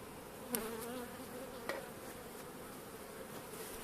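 Caucasian and Carniolan honey bees hum in a steady, close swarm at an unreduced hive prepared for winter, with a couple of sharp knocks against the wooden hive cutting through the buzzing.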